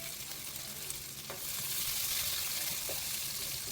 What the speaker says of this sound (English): Saute until the onions turn golden brown and release that beautiful aroma.